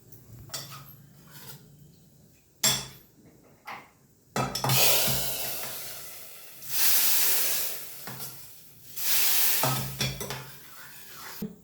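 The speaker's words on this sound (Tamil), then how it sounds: "வாங்க கருவேப்பிலை கொஞ்சம் போட்டு தாளிச்சிக்கலாம். தாளித்து இப்போ நம்ம கூட்டில் விட்டுடலாம்." Curry leaf tempering in hot oil poured into pumpkin kootu, bursts of loud hissing sizzle coming in several separate waves between quieter stirring and utensil clinks, with no voices.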